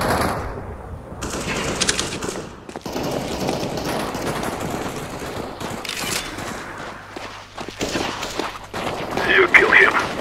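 Gunshots crack out during a Counter-Strike: Global Offensive match, mixed with footsteps and other game noise, while players talk over the action.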